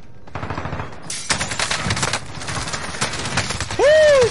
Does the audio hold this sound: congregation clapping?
no